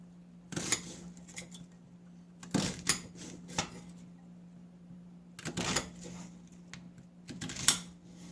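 Vegetables being chopped with a knife on a cutting board, heard as clusters of sharp wooden taps that come in short bursts separated by quiet gaps over a low steady hum.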